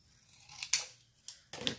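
Scissors cut paper for a seed packet journal in a few quick, close snips. The cuts are crisp but faint, with short quiet gaps between them, and no voices are heard.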